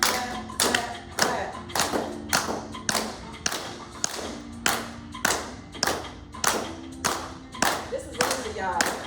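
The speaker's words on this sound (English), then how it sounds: "We're gonna clap, clap, clap, clap." Sharp hand claps land in a steady, even beat, about two per second, loud and close as a group claps along together during an aerobic and yoga style workout.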